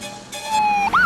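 An ambulance siren wails close by, with a steady held tone that then bends into a rising and falling sweep near the end. No one speaks.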